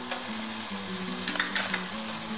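Green chillies sizzle in a pan for shahi chicken curry, a close, bubbling fry with a brief burst of stirring scrapes partway through.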